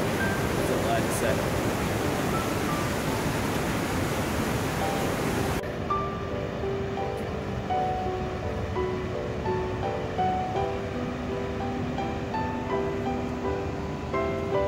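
Waterfall at Great Falls Park, a broad steady rush of falling water, loud at first then abruptly quieter and more distant, with faint voices in the background.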